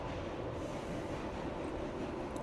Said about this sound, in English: The subway rolled on